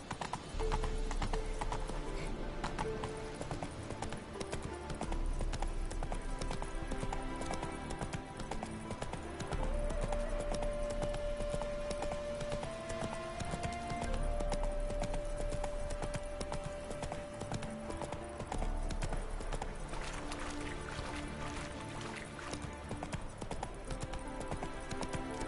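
Roach the horse in The Witcher 3 video game cantering, with steady rhythmic hoofbeats running nearly throughout over a continuous bed of game music and ambience; no one speaks.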